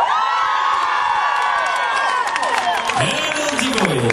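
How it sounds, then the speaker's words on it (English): Concert crowd of women screaming and cheering loudly at an outdoor show at Kedleston Hall, a dense continuous roar of shrill shrieks and whoops that swells near the end. "what are these women down here screaming their heads off for?"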